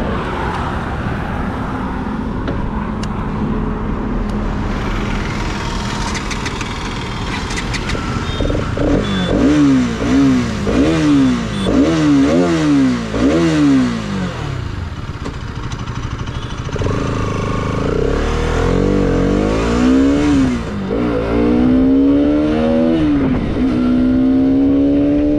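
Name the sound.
Bajaj Pulsar RS 200 motorcycle riding, engine revving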